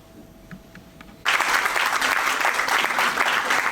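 Sudden, loud applause erupts from the audience at a municipal corporation seminar welcoming the commissioner, continuing as a dense, steady clapping after a quiet start.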